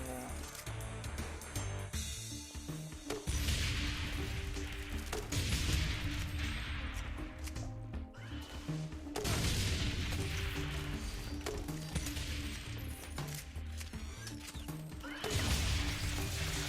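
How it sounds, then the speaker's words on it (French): A grenade launcher in a video game fires in repeated heavy bursts, each followed by loud booming explosions, recurring every few seconds over continuous game noise. "Ah mais c'est un lance-grenade en fait."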